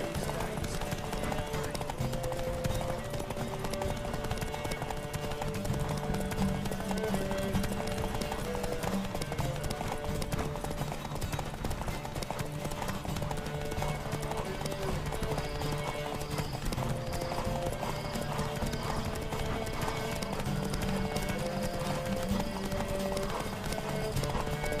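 A horse galloping during a race in The Witcher 3: Wild Hunt, rapid continuous hoofbeats pounding under a music-like background, with occasional snorts and game voices over the top.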